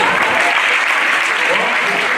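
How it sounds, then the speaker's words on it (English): A stadium crowd applauds the winner of a men's under-20 1500 m race in a loud, dense, unbroken wash of clapping, with a voice talking faintly underneath. "Let's give him a large round of applause."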